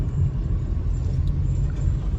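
Steady roaring rumble of road traffic while a vehicle slowly overtakes a truck on a city road in Multan, Pakistan; a continuous close engine and road drone with no talk.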